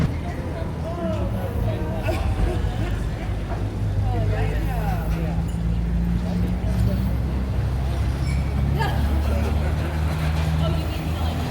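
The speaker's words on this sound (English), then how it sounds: "So we're going to go up and letting the truck do all the work here." A Ford Raptor truck crawls up a 39-degree incline at the 2024 Chicago Auto Show, its low steady engine drone running under a loud indoor crowd babble while people talk nearby.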